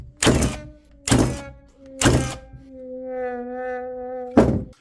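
Milwaukee cordless nail gun firing four loud, sharp shots in an uneven rhythm, with a steady mechanical whine of the tool's drive running between the later shots, close up.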